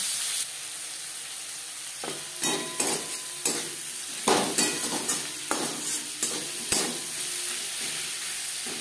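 Tomatoes and onions fry in a little oil with a steady sizzle, broken by repeated scraping stir strokes in an irregular rhythm, close and moderately loud.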